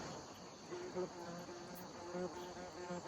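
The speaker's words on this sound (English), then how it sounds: "Oh no, there's another bee." A bee buzzes faintly nearby, its drone rising in short intermittent bursts over a quiet outdoor background, with no talking.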